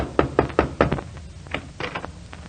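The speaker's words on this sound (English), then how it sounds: "is about to knock on the door of the Middletown Little Theater League" Four firm knocks on a theater door in a steady rhythm, close and clear, followed by a few softer, fainter taps against a low background hum.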